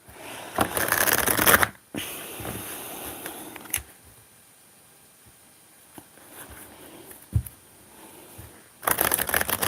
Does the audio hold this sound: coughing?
no